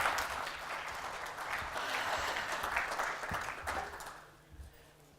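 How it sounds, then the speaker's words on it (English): A conference audience at a sales summit applauds to welcome a speaker, a steady spread of clapping that fades out toward the end, fairly quiet overall. "Round of applause, please."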